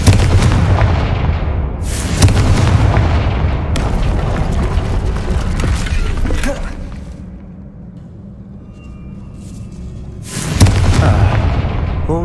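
Fire-blast Confringo spell explosions in Hogwarts Legacy: several loud, sharp booms, with long gaps between them and fading rumble and debris noise after each blast.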